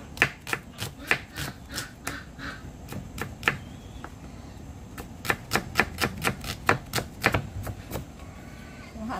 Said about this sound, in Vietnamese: em sắc củ hành đặng em ướp vô trong cái thịt này